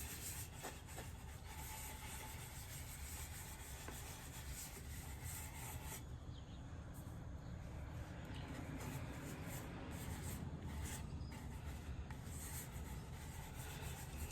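Friction polish being rubbed onto a spinning spalted red alder salad bowl on a wood lathe, a steady, faint rubbing hiss over the lathe's continuous hum.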